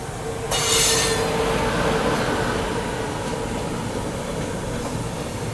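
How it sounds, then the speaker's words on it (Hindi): Shalimar Chennai Weekly Express, running about 1.5 hours late, rolls in near a platform with loud, sustained wheel squeal and steady rumbling rail noise that persists throughout without speech. "देखो सामने से अभी ये आ रही है अपनी शालीमार चेन्नई वीकली एक्सप्रेस"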